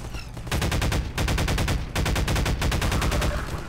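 Loud automatic weapon fire in Half-Life 2 hammers in three rapid bursts with brief gaps, close and dominant with no voices over it.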